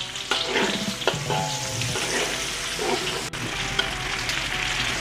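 Sliced onions fry in hot oil for nasi lemak sambal, a steady close sizzle with occasional stirring clinks and scrapes, no talking.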